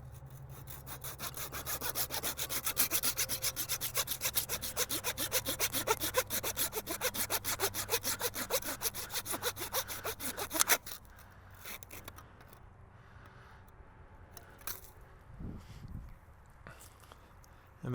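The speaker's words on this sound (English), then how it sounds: "the saw works a lot better when it's not getting clogged up" A hand saw cuts through a deer quarter during field processing with quick, rhythmic rasping strokes, close and steady for about ten seconds, then stops, leaving a few faint handling noises.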